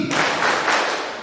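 An audience at a 2023 provincial inspectorate briefing in Central Kalimantan claps together on cue, a short burst of many hands that starts abruptly and fades within about a second, close and fairly loud, with no talk over it.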